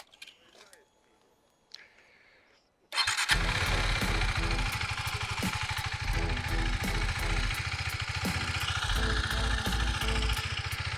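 A motorcycle rolling slowly during low-speed balance practice, its engine running steadily and loud up close with a throbbing low rumble from about three seconds on, after quiet moments with faint background sounds.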